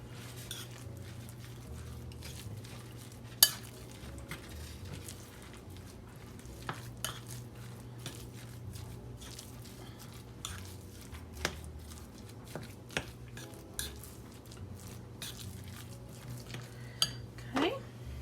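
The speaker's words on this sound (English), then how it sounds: "And we'll stir this up a little bit before we add anything else." An egg stirred into an appetizer mixture in a bowl, with soft scraping and clinks of a utensil against the bowl and occasional sharper knocks, close and quiet over a low background hum.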